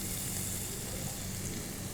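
Whole cardamom and spices frying in hot oil for Nilgiri mutton kurma, a steady close crackling sizzle that holds evenly throughout with no voices.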